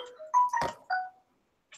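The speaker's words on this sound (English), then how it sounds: "Is that my phone or your phone?" A Samsung phone sounds a notification: a short run of bright, rising chime tones lasting about a second, followed by a faint brief blip, heard indoors with no one talking over it.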